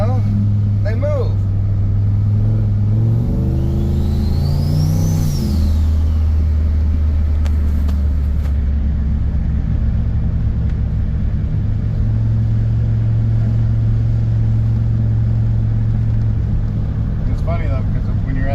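Turbocharged LS-engine farm truck accelerating, a loud, steady low engine drone with a rising tone change early on, heard from inside the cab.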